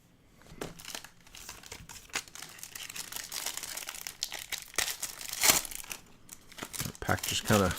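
A card pack wrapper tears and crumples steadily up close, with continuous crinkling and sharper rips throughout, and a voice talks faintly underneath.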